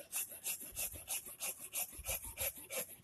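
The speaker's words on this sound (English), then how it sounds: "You want to do nice, even, light strokes that aren't going to create a pinch point in that saw kerf." A hand saw cuts through a wooden spoon-carving blank in light, even back-and-forth strokes, a regular rasping rhythm of about three strokes per second, close and quiet with no talk.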